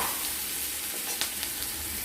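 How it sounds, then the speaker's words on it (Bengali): Chopped onions frying in a pan, a steady soft sizzle with a few faint scrapes of stirring, no talking. "পেঁয়াজ কুচিটা দিয়ে আমরা হালকা লাল লাল করে পেঁয়াজটাকে ভেজে নেব"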